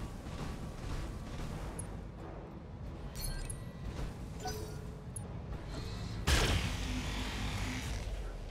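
Gunfire from BattleTech's battling mechs: soft, distant bursts and thuds scattered across the stretch, ending in one louder, sharper report near the close that rings on, all low in level under a steady ambient rumble.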